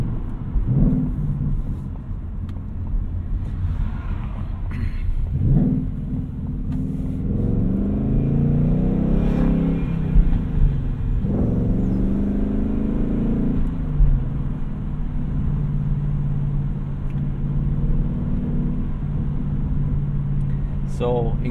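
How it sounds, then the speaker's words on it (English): A stock 2020 Ford Mustang Bullitt with an active valve exhaust accelerates on a road, its deep engine rumble swelling and holding steadily loud throughout, with no one talking. "It is an active valve exhaust"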